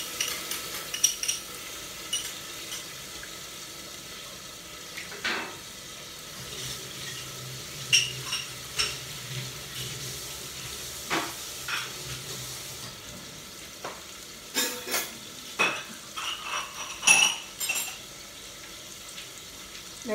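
Onions frying with turmeric powder and ginger garlic paste in a pan for a cabbage and chana dal curry, with steady soft sizzling and intermittent scraping stirs, close and fairly quiet.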